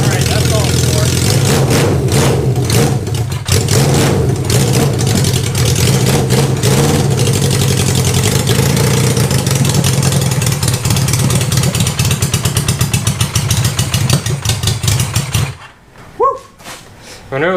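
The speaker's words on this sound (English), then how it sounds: "When it was running on all 4 cylinders there for a second, it sounded really cool" A loud Honda CB500 café racer engine with chopped exhaust roars and revs continuously up close, running rough and uneven before cutting out near the end.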